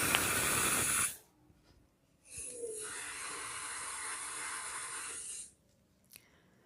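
A pressure cooker on an induction hob lets out a loud burst of hissing steam, goes quiet, then hisses again for about three seconds before stopping, with a faint click near the end.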